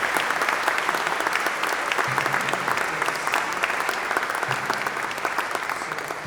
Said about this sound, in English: let's give another round of applause for those French glories and the rest of the band as well